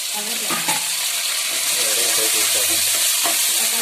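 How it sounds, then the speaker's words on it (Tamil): Tomatoes and onions fry in a pan for a chicken gravy, a loud continuous sizzle up close with occasional spoon scrapes as they are stirred. "அடுத்து தக்காளி வெங்காயம் வதங்கிடுச்சு"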